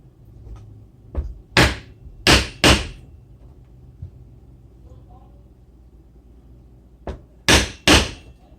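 Rivets being hammered into the handle keepers of a leather handbag during restoration: sharp, close knocks, a quick cluster of four, then a pause, then three more blows, over a quiet room.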